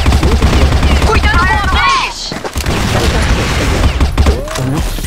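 Gunfire in the CrossFire 3.0 shooter game, with bursts of shots, booming thuds and loud in-game effects, heard under excited voices shouting callouts.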